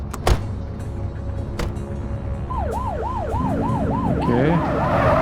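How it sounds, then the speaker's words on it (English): A police car siren in The Precinct, a retro GTA-style police simulator game, starts up and wails in a steady rising-and-falling cycle, growing louder over a low engine hum, with no talk. "Activate your lights and siren."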